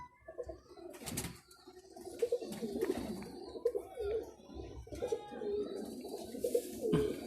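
Close, repeated cooing of golden pigeons rises and falls at a Sunday bird market in Lahore, with short bursts of rustling and a little murmured talk behind.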